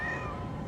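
Cartoon cat Azrael from the Smurfs gives a single short, high meow that slides downward, close and clear with nothing else in the background.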